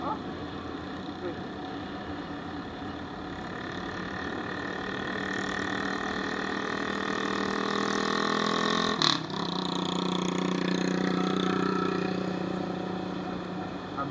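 A motorcycle engine runs in Barangay Tampaan, Aloguinsan, holding a steady, droning hum for the whole stretch with a single sharp click midway.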